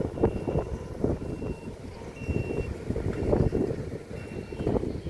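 Strong wind blows across open ground in a wind-farm area during a groundwater survey. It buffets the microphone with a steady, rough, gusty roar.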